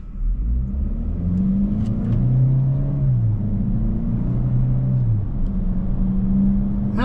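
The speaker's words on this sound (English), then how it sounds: "And the vehicle takes off all right." A 2025 Chevrolet Equinox LT AWD SUV engine accelerates steadily, its tone rising and shifting through gears as a continuous loud rumble, heard from inside without talking.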